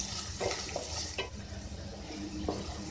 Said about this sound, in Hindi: चिरौंजी, किशमिश, से अच्छे से मिक्स कीजिए।